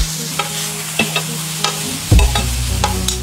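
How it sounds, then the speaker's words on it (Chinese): Green peppers pan-fry over low heat, a soft steady sizzle broken by sharp clicks and scrapes of a utensil turning them in the pan, with a louder clatter partway through. "青椒上锅，小火慢煎"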